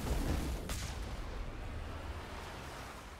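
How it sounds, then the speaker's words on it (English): Deep booming artillery fire in the game Mass Effect 1 (Legendary), a heavy low rumble with one sharp blast near the start, then a sustained roar of continuous bombardment that slowly fades, with no talking. "We must find a way to disable their artillery."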